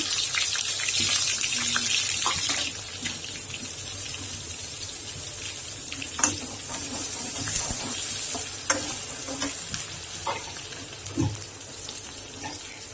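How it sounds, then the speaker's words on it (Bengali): Onions hit hot oil in a pan for a Bengali beef bhuna, giving a loud, steady sizzle that settles into a continuous fry with occasional stirring clinks, close by. "তেল গরম হয়ে গেছে এখন পেঁয়াজ দিয়ে দিলাম"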